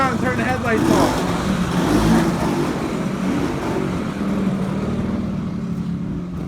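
A car's engine idles and revs while it turns around on a road near a tractor tug of war, a moderately close motor rumble under people talking.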